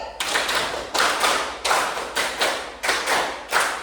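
A classroom group claps in a rhythm pattern, clap five twice: a steady run of about ten broadband hand claps, close and fairly loud, with no talking over them.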